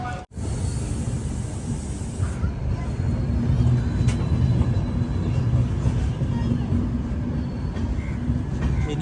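A Humsafar Express train runs steadily after pulling out of Ahmedabad, heard from inside the coach as a constant low rumble of wheels and carriage with faint background voices.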